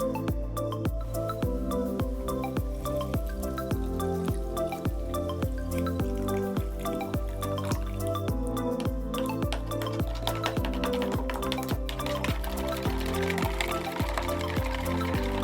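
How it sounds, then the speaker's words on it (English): Brewed tea strained into a cocktail shaker for red bean milk tea, a continuous trickle and dripping of liquid that runs steadily throughout against prominent background music. "Once the tea is done brewing, carefully strain it into your shaker and stir until combined."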